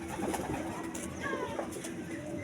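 A racing pigeon at the loft coos softly amid faint background noise and other bird sounds, fairly quiet and a little distant, with no talking.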